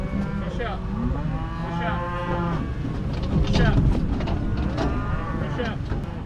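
Cattle and calves moo repeatedly in a bud box sorting pen, several loud drawn-out calls overlapping, with people talking and handling noise throughout.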